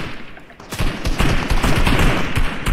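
Gunfire in the Fortnite video game, a rapid burst of shots starting after a short quiet moment and continuing loud and fast to the end.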